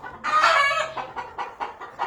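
Peacomb Dan Gray Roundhead gamefowl roosters and hens cluck and call close by, a longer squawking burst at the start followed by a steady series of short, evenly spaced clucks.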